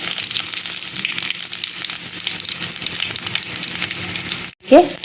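Crushed garlic and mustard seeds crackle in hot oil with a dense, close sizzle and rapid popping for several seconds, then a sudden drop and a short tonal clank at the end.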